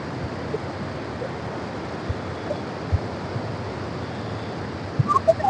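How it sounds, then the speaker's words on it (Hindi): Fast-flowing river water near the Durga Malleswara Swamy temple in Vijayawada makes a steady, soft broadband wash, with faint taps and a brief high chirp near the end. "सुपर फास्ट हो गया इस साइड में पानी।"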